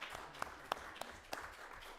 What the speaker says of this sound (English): I think you deserve a round of applause for the work you did the past 2 years